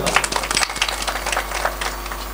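An audience claps together at a devotional kirtan gathering, a dense, steady patter of many hands, close and fairly loud for a couple of seconds with no voices over it.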